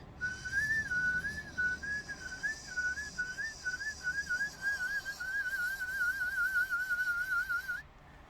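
Palate whistle with tongue vibrato: one long, clear whistled tone wobbling rapidly up and down in pitch, held for several seconds close to the mic with a faint hiss behind it, then cutting off.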